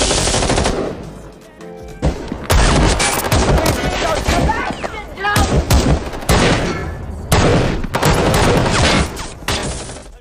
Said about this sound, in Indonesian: Kemudian terjadi baku tembak.